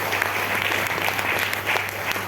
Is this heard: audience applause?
yes